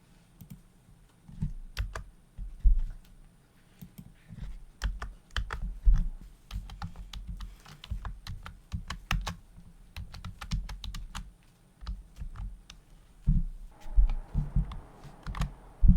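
Computer keyboard keys tapped in scattered bursts and single clicks while keyboard shortcuts for DaVinci Resolve editing software are entered, close and fairly quiet, with no one talking.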